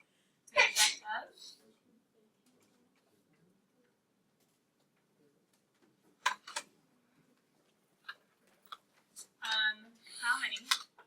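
A sneeze bursts out in a classroom, loud and close at the start, followed later by sharp ticking clicks and further bursts of noise amid a quiet room with some speech.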